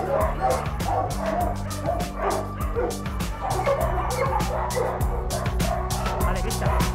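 Many dogs at an animal shelter bark and yip in a continuous overlapping chorus, loud and close, with whimpers mixed in and a low steady hum beneath.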